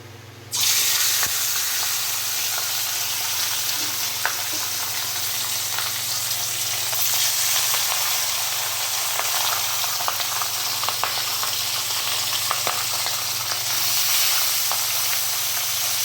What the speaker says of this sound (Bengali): এবার আমি মাছগুলোকে ভালো করে ভেজে নেব।